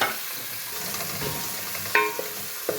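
Boneless chicken, about 300 grams, sizzles and fries steadily in a pan with garlic, with stirring scrapes and a couple of sharp utensil clinks near the end; no talking.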